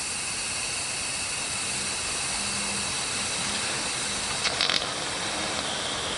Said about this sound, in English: just wait for the steam to clear in this